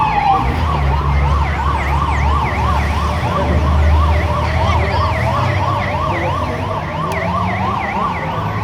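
A loud siren yelps in fast, even up-and-down sweeps, continuous and close, over a low rumble of road traffic.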